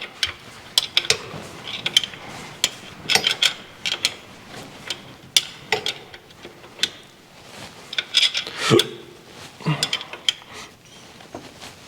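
Metal wrench clicks and ratchets while turning a bolt on a car's blower motor, with irregular close taps, rasps and scrapes over the whole stretch and no talking.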